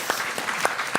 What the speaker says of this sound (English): Give them a warm welcome of applause.